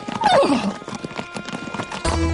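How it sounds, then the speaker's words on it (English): Horses setting off into the desert, hoof clip-clop and a descending whinny near the start, with busy layered sound throughout and a lower rumble entering at the end. "Mufid watched the horses set off into the desert"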